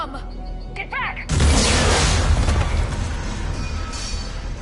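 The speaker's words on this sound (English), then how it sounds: "Bomb! Get back!" A bomb explodes in Mass Effect 3 with a sudden loud boom after a shouted warning, then a long rumbling roar that slowly fades.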